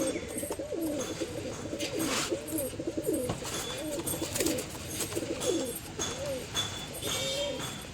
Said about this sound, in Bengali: এটা একটা মাদি পায়রা